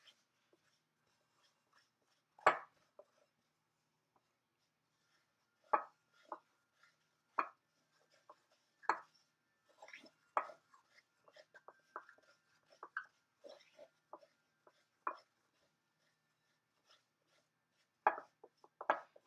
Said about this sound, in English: Remember, when you're mixing, you have to hold the bowl with one hand while the other one is mixing with the spoon.